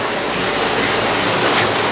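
Water is pumped out of a leaking tank into a neighbouring one, making a loud, close, continuous gushing splash with no voices.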